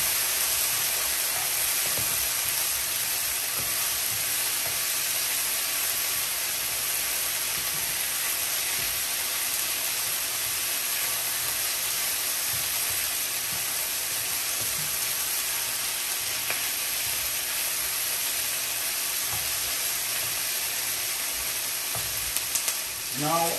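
Sweet pepper stir-frying for beef lo mein, a loud, unbroken sizzle with occasional spatula scrapes throughout.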